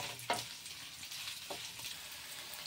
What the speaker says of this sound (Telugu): ఆనియన్స్, పచ్చిమిర్చి ఫస్ట్ వేసుకొని ఫ్రై చేసుకోవాలి